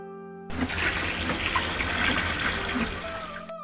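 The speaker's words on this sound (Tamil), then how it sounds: "கமலேசன் தண்ணீர் பிடித்து கொடுக்க உதவுகிறார்." A tap in a village home runs as water is collected, starting abruptly and pouring in a steady, loud, close rush for about three seconds before stopping.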